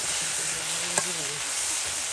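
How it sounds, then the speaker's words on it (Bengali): Taki fish frying with onion, garlic and green chili in a village kitchen, a soft continuous sizzle and hiss, close and low, with a single short clink of stirring midway. "একদম অল্প সময়ের মধ্যে টাকি মাছগুলো ভেজে নিয়ে তার সাথে পেঁয়াজ রসুন কাঁচামরিচ সব একসাথে ভাজা ভাজা করে"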